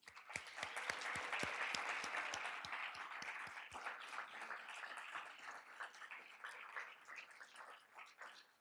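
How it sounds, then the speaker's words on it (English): Audience applause for winners of an entrepreneurship award at a university energy-week announcement, starting with sharp distinct claps and building into dense, steady clapping that thins slightly toward the end. "Please allow me to lead this applause and congratulate all these winners."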